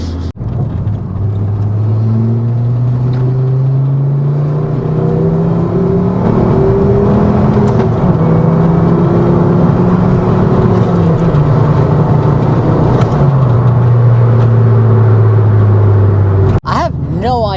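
A Mk2 Ford Focus ST225 with a loud exhaust and turbo drones and revs as it drives, its pitch rising and falling through gear changes, with a sharp exhaust pop near the end.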